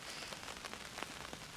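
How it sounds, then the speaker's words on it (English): Rain patters on a tarp shelter over an outdoor camp with army surplus gear, a soft, steady spatter with scattered louder drops close overhead. "As you can probably hear, the rain has started"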